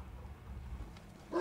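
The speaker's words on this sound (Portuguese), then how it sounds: "Você tá latindo, cachorro?" A dog in the Mad Max video game gives a short, fairly loud bark right at the end, cutting in over a steady low rumble from the game.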